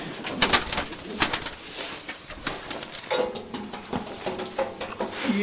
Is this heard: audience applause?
no